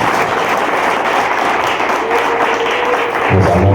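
Applause at the opening of a church wedding ceremony, a steady wash of clapping from a gathered congregation, fairly loud and continuous, with a voice and some tonal sound entering near the end.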